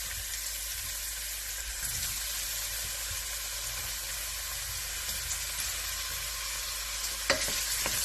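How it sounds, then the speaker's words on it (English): Sausage frying in olive oil in a pan gives a loud, steady hiss and sizzle, up close and unbroken, with a faint clink near the end and no talking. "now we're going to add our sausage because that's going to take the longest to cook"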